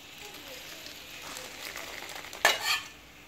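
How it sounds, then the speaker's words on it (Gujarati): Hot tempering poured over poha chivda sizzles briefly and gets stirred in, with soft scraping followed by a sharp crackling burst near the end, close and moderately loud. "હવે આપણે ઉપરથી વગાર એડ કરીશું આ રીતે"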